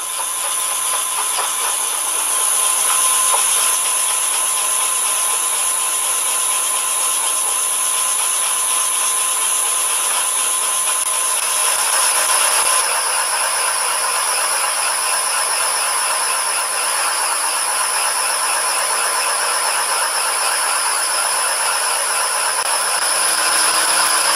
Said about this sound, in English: But we're drilling.